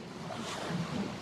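Ocean waves wash onto the shore in a steady, faint roar of surf with a little wind noise.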